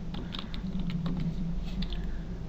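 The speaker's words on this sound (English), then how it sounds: "Boy, I really didn't finish typing this stuff out." Fast, light computer keyboard typing, a loose run of soft clicks over a steady low hum, close and quiet with no voices.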